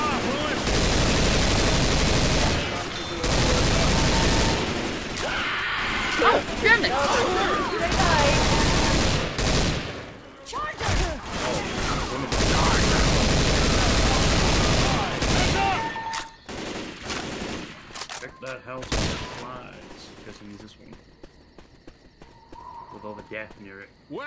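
Sustained, loud gunfire from Left 4 Dead, with long dense volleys that stop and start and then thin into scattered shots, while several friends talk excitedly over it.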